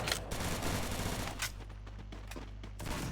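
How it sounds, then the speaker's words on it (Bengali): Gunfire from a shooter video game, set in a criminal-versus-psycho match, crackles in rapid overlapping bursts over a constant low rumble, quiet overall and with no talking. "খুবই ড্যামেজ এবং ওপি শট। সাইকো 3 একটি ডাউন, হেডশট ছিল"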